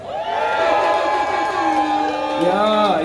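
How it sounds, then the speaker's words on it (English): A crowd at a street dance battle final cheers loudly, with sustained whoops and high shouts rising and falling in a continuous roar that fills the venue. "Crowd, you still with me? Make some noise."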